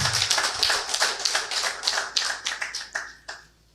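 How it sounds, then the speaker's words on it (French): An audience applauds at a Cameroonian political gathering in a burst of sharp, dense hand claps that taper off near the end, close and loud, with no talk over it. "J'aimerais que vous applaudissiez déjà pour l'effort des Camerounais, s'il vous plaît."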